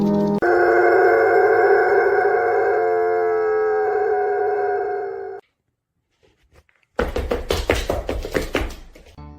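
A dog howls loudly in one long, sustained, wavering note for about five seconds, then falls silent, followed by a burst of rapid tapping and thumping sounds.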